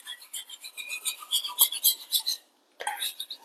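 Herder knife blade rasping in rhythmic strokes across a Murray Lexington finishing stone, a steady run of close, gritty scrapes that pauses briefly before the strokes resume.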